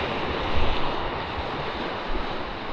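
Sea waves surging and washing near a boat off an island on a fishing trip, a steady broadband roar with louder swells rising briefly, mixed with wind buffeting the microphone.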